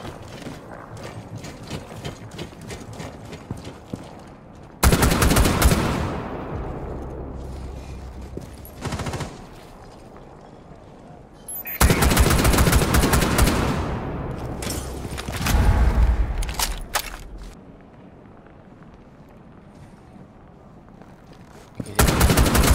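Loud bursts of automatic gunfire from Rainbow Six Siege erupt in several separate volleys with quieter stretches of footsteps and game ambience between them.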